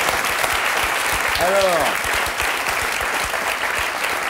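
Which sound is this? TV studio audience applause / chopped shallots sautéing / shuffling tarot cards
TV studio audience applause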